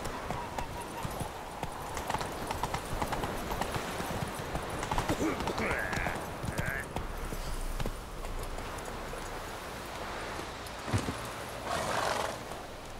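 Roach, a horse in The Witcher 3, gives a short whinny amid soft hoof clip-clops and game ambience, with quiet speech also present; the sounds are faint and scattered rather than loud.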